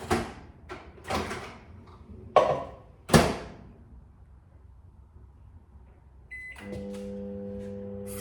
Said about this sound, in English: I'm going to whack that in the microwave